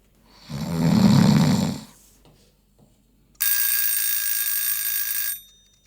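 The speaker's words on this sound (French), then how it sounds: "Son réveil sonne déjà." A loud electronic alarm clock rings in a steady high buzz for about two seconds after a softer noisy burst, then stops.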